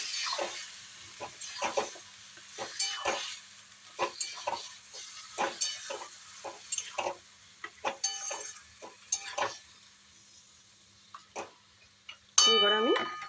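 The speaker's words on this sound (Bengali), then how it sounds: "এই যে কষানো চলছে মাংসটা" Chicken with yogurt, ground pepper and salt being stir-fried in a pan, a long run of irregular spatula scrapes and clinks over a faint sizzle, close by, ending with a louder clatter.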